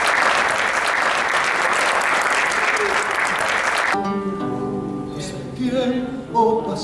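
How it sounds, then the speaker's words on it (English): Audience applause at a Three Kings Day ceremony at El Museo del Barrio, a steady round of clapping from a crowd lasting about four seconds before a speaker's voice takes over. "Please give them a big round of applause."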